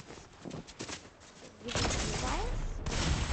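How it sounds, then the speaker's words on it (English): A heavy shotgun in Fortnite fires in rapid, dense bursts that grow into a loud, continuous volley, preceded by a stretch of speech. "I've never seen a heavy shotgun really shoot that fast."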